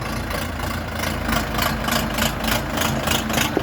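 An Orion RF504RC tractor's KM engine idles steadily at close range, a loud, continuous low rumble with a faint rhythmic pulse and no voices.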